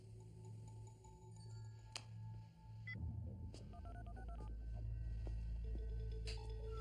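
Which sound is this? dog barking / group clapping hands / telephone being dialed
telephone being dialed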